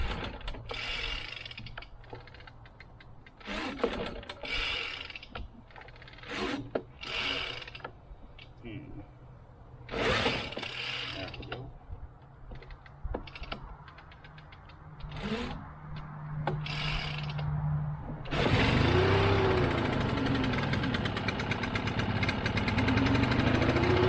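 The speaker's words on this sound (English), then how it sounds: "So let's see how the easy start works." Stihl BR800CE backpack leaf blower being started on choke with its easy-start pull system, several ratcheting pull strokes and clicks followed by the engine catching and settling into a loud steady run near the listener.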